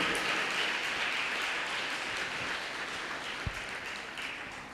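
Steady audience applause for teachers at a state-level school kabaddi tournament's closing ceremony, a dense, even wash of clapping holding across the whole stretch with no voices over it.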